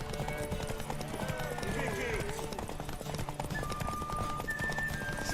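Horses gallop in a race toward a tower in The Witcher 3: Wild Hunt, with a rapid, steady clip-clop of hooves throughout, a neigh mixed in and people shouting over the hoofbeats.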